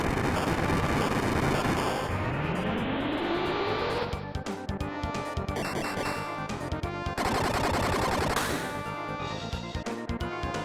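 Rapid machine-gun fire from the Uzi Punch attack in Chrono Trigger rattles continuously, loud and dense, with rising swoosh effects and game music woven through the burst.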